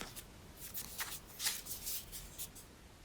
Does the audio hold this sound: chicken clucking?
no